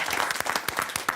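Studio audience applause on a televised quiz show, a dense burst of many hands clapping at moderate loudness that carries through the whole brief moment without speech.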